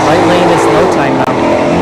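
A Shelby GT500 and a BMW drag race down a dragstrip, with engine roar loud and continuous throughout and a brief dip near the end, while an announcer talks over the noise.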